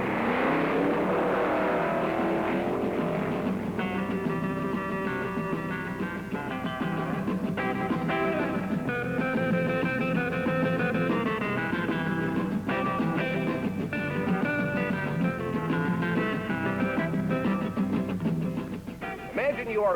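A 1963–64 Ford dragster roars and accelerates down a quarter-mile drag strip, a loud continuous engine drone with shifting harmonic tones that rise and change across the whole run.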